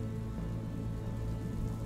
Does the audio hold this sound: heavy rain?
yes